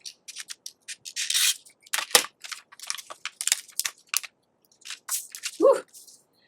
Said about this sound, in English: I am going to cut along the outer edge of my pattern piece.